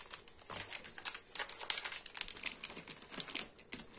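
A packet of yeast is handled in a home kitchen while baking pies, giving close, faint, irregular crinkling and rustling of thin packaging, with no talking.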